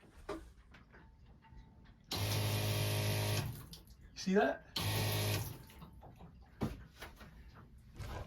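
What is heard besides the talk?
small water pump running and pumping water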